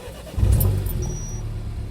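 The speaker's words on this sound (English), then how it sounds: "I am going to just leave the engine running, obviously warm the car up inside" A car engine idles steadily on a freezing, snowy day to warm the interior. A low, even rumble comes in after a quiet start and keeps running close by.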